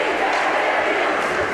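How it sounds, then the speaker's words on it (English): Fans of the Mamaroneck Tigers roar at a high school ice hockey semifinal in the Mamaroneck rink, a dense, steady wall of crowd noise with no pauses. "Total elation from the fans of the Tigers."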